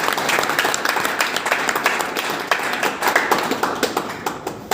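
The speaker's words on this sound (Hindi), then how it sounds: "चलिए एक बार जोरदार तालियां हो जाए फिर से" An audience at a live training session breaks into vigorous applause, many hands clapping densely and quickly, loud and sustained throughout.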